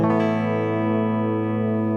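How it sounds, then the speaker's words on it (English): A clean electric guitar tone plays through a Boss MS-3 with the Rat distortion turned fully down: one struck chord rings out and slowly fades, alone and clear. "there it is, there's the clean sound"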